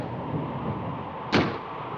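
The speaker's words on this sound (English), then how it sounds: "That's just the wind banging a door." Wind bangs a door against a house, a single sharp close thud breaking through a steady rushing background hiss, alone and without any talk.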